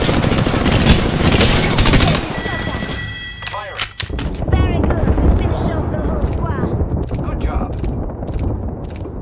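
Apex Legends gameplay: a loud burst of rapid gunfire fills the opening seconds, then a brief lull, a heavy thump around the middle, and more scattered shots and impacts continue close and dense.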